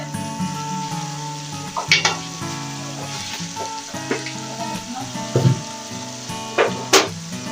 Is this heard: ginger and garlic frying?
yes